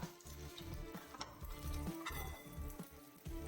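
An egg fries in a pan on low flame, giving a gentle crackling sizzle mixed with soft scraping and stirring noises, quiet and close.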